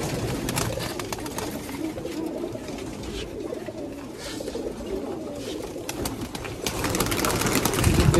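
Racing pigeons of the Beji type coo continuously in a loft, a dense, throaty rolling chorus lasting several seconds with busy rustling and faint background noise.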